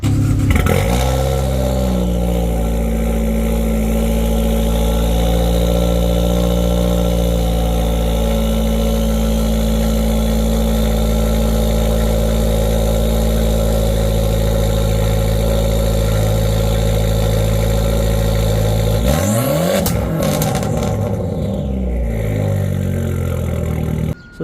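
A 2015 Fiat Abarth engine runs and idles close by with a loud, steady mechanical hum, briefly shifting pitch as it revs near the end before settling again.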